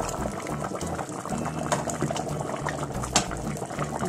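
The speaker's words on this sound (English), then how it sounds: "then I will cover and allow it to boil for about 5 to 10 minutes" Village okra soup bubbles steadily in a covered pot, a continuous low simmering burble with small pops and one brief sharper clink, close and moderately quiet.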